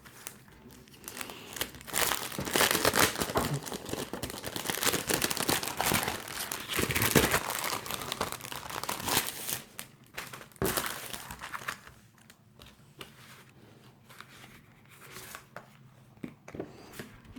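Packaging of pre-cut scrapbooking paper with shaped sheets and patterned pages crinkles and tears open, loud dense rustling and crackling in bursts for about ten seconds, then softer handling with scattered crinkles.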